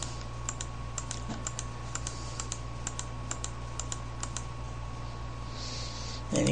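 Mouse clicks tick lightly and irregularly while paging through a document, small sharp taps set over a steady electrical hum and background hiss, with no voices.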